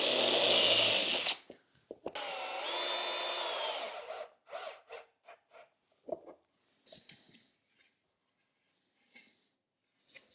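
A power drill with a 2.5mm pilot bit bores into a wooden timber jig in two whining bursts, followed by scattered clicks and handling knocks amid near silence.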